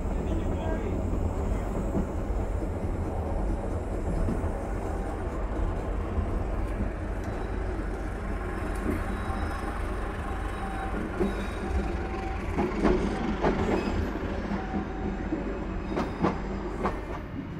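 A train rumbles steadily at Solo Balapan station with rattling wheels and occasional metallic clicks, a continuous loud mechanical drone throughout.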